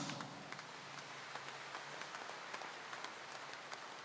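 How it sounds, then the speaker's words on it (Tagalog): A church congregation claps during a homily, a soft, fairly distant wash of many hands clapping steadily throughout, with no talking over it. "Kaya maaari bang pumalakpak ng malakas"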